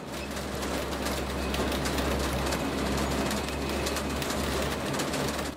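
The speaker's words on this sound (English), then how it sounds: "We ride a train underground there." An underground mine train ride in Mexico, with a steady low rumble and broadband rattling noise running continuously throughout, fairly loud and close, with no voices.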